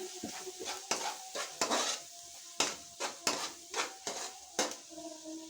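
A spoon scrapes and knocks around a pot as turmeric, salt and dried coriander are mixed into a radish and radish-leaf curry, giving a series of sharp irregular clanks and scrapes over a faint sizzle.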